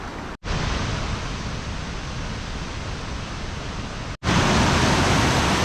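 River rushing beside a hiking trail crossing on the Pacific Crest Trail, a steady loud broadband roar of flowing water heard close, with two brief sharp dropouts.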